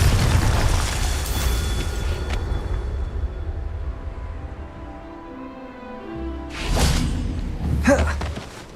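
Confringo fire-spell blasts in the Hogwarts Legacy video game: a dense rumbling boom at the start that fades, then two sharp bursts near the end, with a whooshing swell among game sounds.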